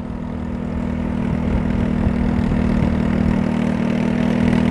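A modified 150cc GY6 scooter engine runs steadily at about quarter throttle, a loud, continuous mid-pitched drone with a firm low hum throughout and no voices.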